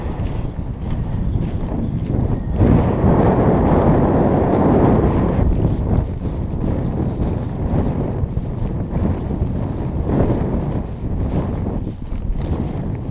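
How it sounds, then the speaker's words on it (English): Strong wind blows across an open moor, roaring steadily and buffeting the microphone with gusts that rise and fall for the whole stretch, with no voices. "Sorry about the wind."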